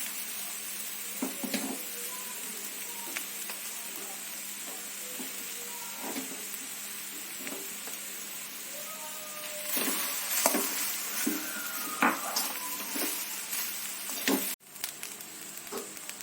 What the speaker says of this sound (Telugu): రైస్ వేసి అడుగు మీద కలుపుకోవాలి. 2 కప్పులు రైస్ వేస్తున్నాను.